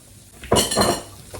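A utensil scrapes and clatters briefly against a frying pan as chicken and vegetables are stirred, a close burst of metallic rasping over a faint sizzle.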